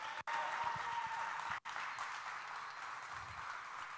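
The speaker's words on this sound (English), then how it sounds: "Let's give our military and our first responders a big round of applause." Steady crowd applause at an award ceremony, broad and continuous clapping from an audience with two brief dropouts and no talking over it.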